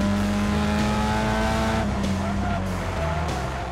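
Stock car lapping a track during a practice session, a loud sustained engine roar that shifts pitch as it works through gears, with tyre noise and a voice talking over it.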